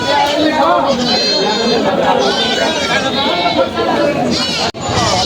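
Goats bleating repeatedly amid the loud chatter of a crowded livestock market at Jamalpur Chourasta, Gazipur, with people talking throughout.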